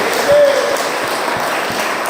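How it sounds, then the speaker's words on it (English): Conference audience applauding for Dave at DopeyCon, a steady wash of clapping throughout the short stretch, fairly loud, with a faint voice over it. "can we give Dave another round of applause?"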